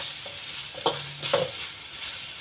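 Blanched garlic sprouts stir-fried in a pan with yellow beancurd and ham, a soft background sizzle broken by a few sharp spatula scrapes and clinks, close and fairly quiet.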